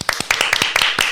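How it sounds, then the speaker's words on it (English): Audience applause in a small group, a quick run of sharp, irregular hand claps, close and fairly loud, lasting only a moment. "Can we just give like a round of applause?"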